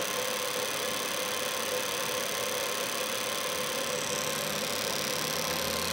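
AllSun EM276 injector tester running a fuel injector in continuous mode, giving a steady, unbroken buzzing hum with bright high-pitched tones, moderately quiet and constant throughout with no talk.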